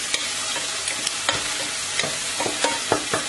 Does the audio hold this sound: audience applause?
no